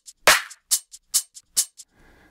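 A drum group in music production software plays a sparse, punchy pattern of about eight sharp hits, a snare-like crack among lighter taps, dry and close, ending in a faint tail.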